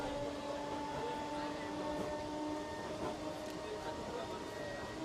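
Crowded commuter train in Mumbai rumbling along, a steady dense rattle and roar of wheels and carriages with a faint tonal whine, heard at low level without pause.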